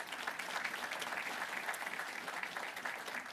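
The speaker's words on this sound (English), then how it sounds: "Big round of applause." Steady applause from a crowd at a hospice groundbreaking ceremony in Mississauga, dense and continuous clapping throughout with no pauses, fairly close and even in loudness.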